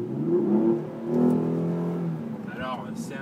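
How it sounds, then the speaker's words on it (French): A Hyundai Genesis Coupé's 3.8-litre, 347-horsepower V6 revs up twice with a smooth, rising howl, then settles as a voice speaks over the fading engine. "c'est un moteur qui chante vraiment très bien"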